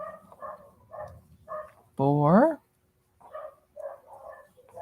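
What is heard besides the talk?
dogs barking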